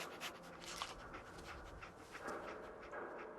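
A dog companion in the Fallout 4 video game pants softly and steadily, with faint rubbing and shuffling noises beside it and no voices.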